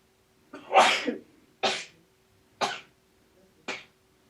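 A sharp sneeze, followed by three quicker sneezes or coughs spaced about a second apart, close and clear in a quiet room.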